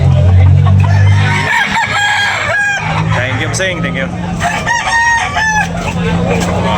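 A rooster crows repeatedly close by, its strained calls overlapping with other fowl clucking and people talking in the background.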